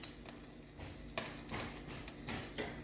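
Potatoes, vegetables and olives go into a hot pan, setting off a steady sizzle broken by several sharper bursts of frying as pieces land and are stirred.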